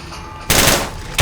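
Two sharp, loud gunshot blasts in the Fallout New Vegas video game, the first ringing out with a decaying tail and the second following about 0.7 seconds later.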